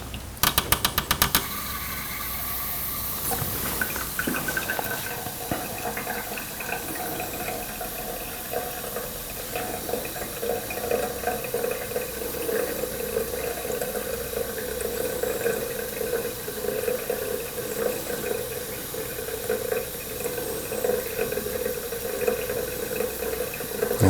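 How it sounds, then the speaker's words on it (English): Water runs steadily from an opened cold tap in a heat-flow valve demonstration rig, a continuous close hiss and rush with a few sharp clicks at the start, no voices. "So now we'll close the hot tap and slightly open the cold tap."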